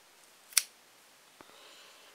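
Scissors snip a strand of yarn, giving one sharp close click followed by a fainter second snip in an otherwise quiet room.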